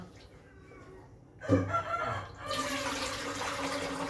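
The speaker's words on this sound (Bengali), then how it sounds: "যখনই ভিডিও চালায় তখনই মুরগি ডাকে" A rooster crows once at middle distance in a domestic setting, a strained call rising out of quiet household background, followed by running water from a tap.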